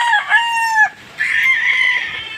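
A rooster crows loudly nearby in two drawn-out calls with a short break between them.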